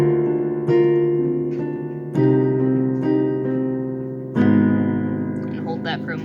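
Piano playing the ending chords of a song, with four sustained chords struck one after another, each ringing and slowly fading, and no voice over them.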